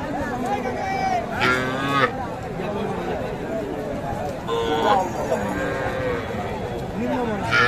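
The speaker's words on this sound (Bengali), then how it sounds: "একটা ষাঁড় আর একটা বকনা।" Cattle lowing at a livestock market, bull and heifer calves, with a couple of deep, drawn-out moos rising over steady crowd chatter and people talking nearby.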